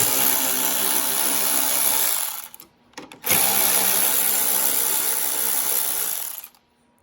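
Power driver backing out T15 screws from the plastic hood release trim on a 2019-or-newer Chevrolet Silverado, a steady whirring run of about two seconds, a short pause with a few clicks, then a longer run, close and fairly loud.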